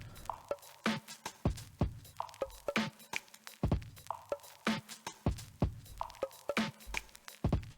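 A punchy, swung UK garage electronic drum loop with crisp kicks, snares and hi-hats repeating in a steady groove, with faint vinyl crackle texture, no voices.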